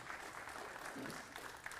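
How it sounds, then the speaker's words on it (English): A crowd claps continuously in a brief burst of applause, dense and even, heard from within the room at a Northern Kentucky community conversation event on the housing shortage. "let's give them a round of applause"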